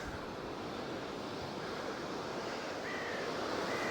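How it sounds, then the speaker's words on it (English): North Sea surf below a clifftop in winter, a faint, continuous wash of waves heard from a distance, blurred by wind buffeting the microphone. "There's the North Sea."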